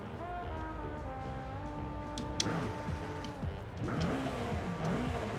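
A 1993 S14 Nissan 240SX drift build in Forza Horizon 5 revs its engine, with steady rising and falling engine tones and shifting pitch throughout, fairly loud and continuous.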